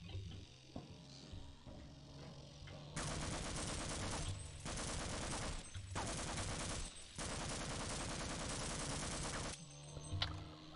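Gunfire in Half-Life: Opposing Force rattles in long sustained automatic bursts, broken by brief pauses, over a low ambient game hum.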